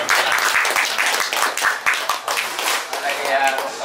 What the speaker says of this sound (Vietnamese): Cho một tràng pháo tay luôn.